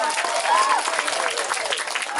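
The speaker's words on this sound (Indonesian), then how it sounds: "Ya luar biasa, tepuk tangan." An audience at a children's arts event in Balingka claps steadily through a short burst, with voices mixed into the applause.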